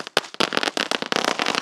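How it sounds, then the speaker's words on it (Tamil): A Sivakasi lollipop firecracker goes off in a rapid run of sharp, close crackling pops and small bursts that keep spitting for the whole moment. "இதுவுமே வெடிக்குது, நின்று வெடிக்குது."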